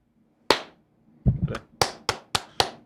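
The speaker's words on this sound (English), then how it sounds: "I got a bad finger, so my clap ain't strong" A man with a swollen finger claps his hands: one sharp clap, a pause, then a quicker run of five or six close, crisp claps, no talk.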